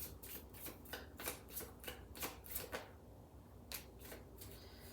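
Oracle cards being shuffled and pulled from a deck, a close, quiet papery flutter and riffle in several quick bursts, followed by a short pause and a final few card slides.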